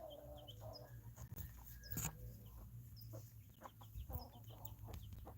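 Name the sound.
chickens clucking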